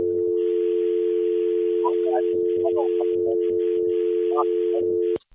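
A steady telephone dial tone on a radio station's call-in line hums continuously for about five seconds, loud and unbroken, with people talking over it before it cuts off abruptly.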